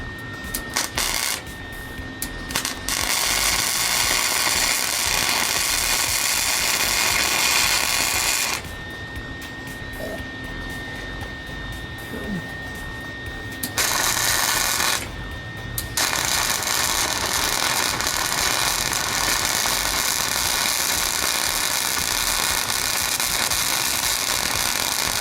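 A 1967 VW Bus frame is tack welded in the corners, with anti-spatter spray applied. Loud, harsh crackling bursts of the arc run for several seconds at a time, broken by quieter pauses between the tacks.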